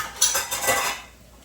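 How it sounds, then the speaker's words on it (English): A spoon scrapes and clinks around a skillet as garlic is stirred in for a pizza pasta bake, a quick burst of metallic scraping that fades to quiet after about a second. "I'm going to stir that in for just a second."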